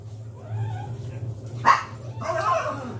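A single short dog bark, close by, followed by a quieter yip over a low steady hum.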